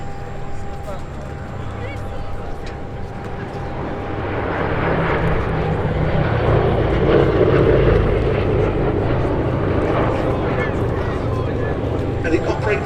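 A formation of WWII bomber aircraft passes over the Duxford Battle of Britain airshow, a loud, broad piston-engine roar that swells and holds steady as the planes fly by.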